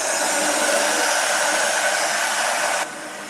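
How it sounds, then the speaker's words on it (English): A handheld heat tool blows over chalk paste on a craft board, a loud steady close whooshing roar that drops to a lower setting near the end. "So I'm going to go over this with my heat tool just to kind of speed up the drying."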